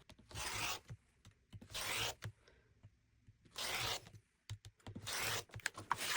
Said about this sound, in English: I'm going to cut the long sashing strips from some of these